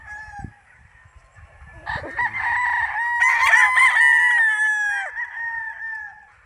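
A bull stag rooster crows loudly and close by on a gamefowl farm, one long drawn-out call with a clucking note just before it.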